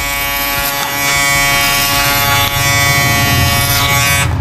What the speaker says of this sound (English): Literally just clipper over comb.